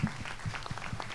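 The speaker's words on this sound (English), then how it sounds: "Let's give a clap up for you." An audience at a State of the Youth event applauds young people, a moderate crowd clapping in a dense irregular patter heard at medium distance, with some voices mixed in.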